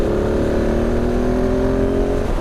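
A 2019 KTM 690 Enduro R single-cylinder motorcycle engine pulls steadily, its rising drone loud and close throughout with no voices over it.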